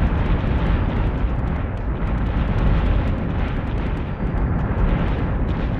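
Weapons fire and explosions in a space battle in the Battlestar Galactica Deadlock video game form a dense, loud, continuous rumbling roar with scattered bursts throughout.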